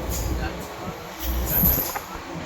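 A metro train in Hyderabad's Hitech City area gives a brief, low rumbling pass with a rising and falling roar, while voices are faintly heard alongside.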